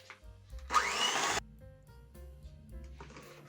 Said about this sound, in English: And then we start mixing again.